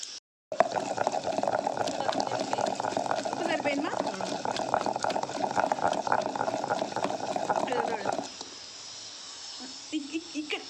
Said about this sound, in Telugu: ఉడికిపోతూ ఉంది